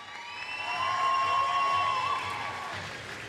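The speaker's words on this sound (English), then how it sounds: "Big round of applause" A crowd at a high school basketball game claps and cheers, a swelling wash of applause with a sharp whistle and whoops rising in the middle, heard from a distance and fading toward the end.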